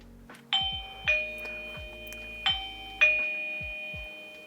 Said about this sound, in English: you'll hear the doorbell kind of go up and above